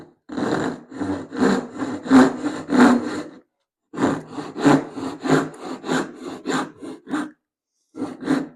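A hand saw rasps through wood in rapid back-and-forth strokes, two bursts with a brief pause between. The wood is held high in a vise, so each stroke has a vibrating, chattering buzz. It is close and loud, with no voices.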